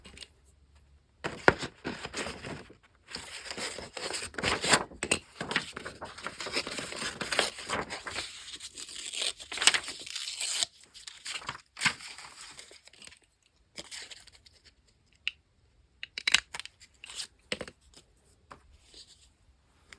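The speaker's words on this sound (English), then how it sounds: "and then I'll have to cut another one." Scissors cutting strips from an old paper calendar: bursts of crisp snipping and paper crinkling close by, broken by pauses, with paper rustling and handling noises in between.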